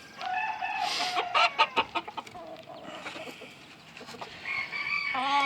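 Hens and a rooster in a newly built breeding pen, white-crested Polish among them, cluck and squawk in bursts, with one bird starting a crow at the end; close and lively, no talking.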